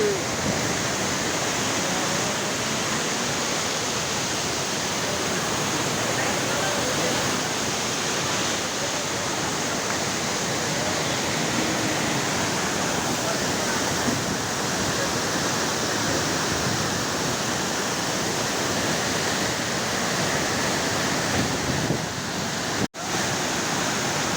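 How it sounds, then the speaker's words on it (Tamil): Bangara Kusuma Falls in Karnataka pours in a loud, steady, broadband roar of rushing water that continues unbroken, with one sharp click near the end. "எவ்வளோ அருமையான ஃபால்ஸ் இருக்குது, எவ்வளோ அருமையாக தண்ணி வருது"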